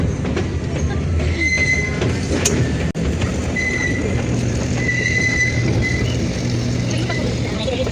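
A train rumbles at a railway station, with a low continuous rolling drone, faint high squeals and a sharp clank midway, while people can be heard talking in the background.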